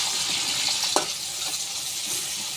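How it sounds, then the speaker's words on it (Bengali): Onions and green chillies frying in a pan, a constant loud close sizzle with a brief clink of a spoon stirring near the start, no voices. "এখন পেঁয়াজ দিয়ে দিব, পেঁয়াজ কাঁচামরিচ দিয়ে ভালো করে ভেজে"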